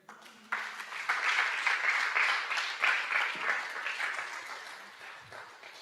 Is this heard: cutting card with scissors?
no